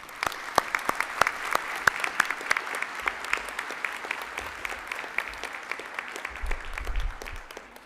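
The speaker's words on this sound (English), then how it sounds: "let's give them a round of applause, please" An audience at a high school white coat ceremony for a senior health careers class breaks into applause, scattered sharp claps over a fuller, moderately loud wash of hands, steady for several seconds.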